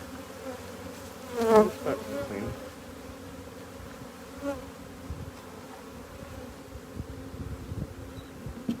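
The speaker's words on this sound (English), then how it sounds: "You can see the bees already migrating up into the box." Honeybees hum steadily and close while moving up into a wooden hive box, with a louder buzz swelling briefly as a bee passes near, and no talking.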